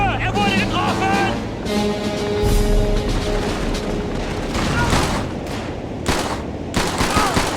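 Sustained gunfire from Call of Duty 3: a dense fusillade of rifle and machine-gun shots with booming blasts, close and loud, with battlefield voices calling out underneath.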